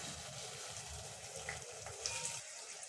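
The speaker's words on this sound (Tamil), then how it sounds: "வெங்காயம் வந்து நல்லா கண்ணாடி பதம் வர அளவுக்கு நல்லா வதக்கி விட்டுறலாம்" Soft sizzling of finely chopped onions frying in oil in a pan, quiet and close, with a few faint clinks and a low rhythmic rumble underneath.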